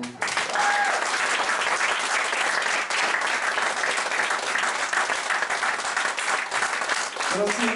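At a chanson concert, an audience breaks into sustained, dense applause that fills the hall for several seconds, loud and steady, with a voice briefly over it.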